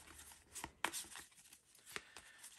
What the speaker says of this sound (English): Put those over, shuffle them around a bit